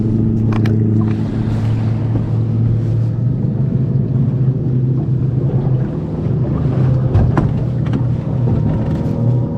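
Fishing boat motoring across a lake on a windy day with waves, a steady low engine drone with wind buffeting the microphone and water noise, continuous and close.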